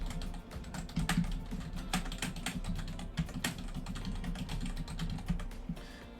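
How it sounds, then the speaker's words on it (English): Steady typing on a computer keyboard, rapid irregular key clicks close to the mic, continuous throughout with no talking. "You just type in the information here."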